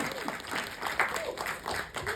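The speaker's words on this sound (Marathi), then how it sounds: "जोरदार टाळ्या झाल्या पाहिजे." An audience gives light, scattered applause at a Marathi film event welcoming actress Pooja Sawant, soft uneven clapping mixed with voices and murmuring throughout.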